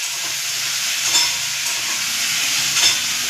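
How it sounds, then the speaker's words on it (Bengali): Fish head pieces frying lightly with salt give off a steady, broad sizzle with faint crackles, close and continuous throughout. "অল্প সামান্য আমি নুন দিয়ে হালকা করে ভেজে নেব।"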